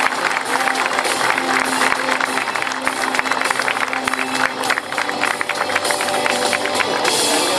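Community applause at a 61st anniversary ceremony in El Hoyo, a steady dense clatter of many hands clapping throughout, with crowd murmur and scattered voices underneath.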